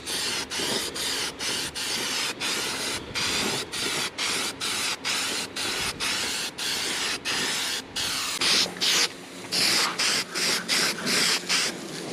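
Gray paint sprays onto a pickup truck hood in a rapid series of close, loud hissing bursts, each cut by a brief pause, over a dozen passes in a steady rhythm.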